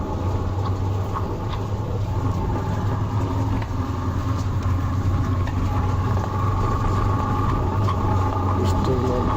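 Car and bus traffic on a rainy Dhaka street, with a steady engine rumble and idling vehicles forming a constant drone and occasional sharper sounds cutting through.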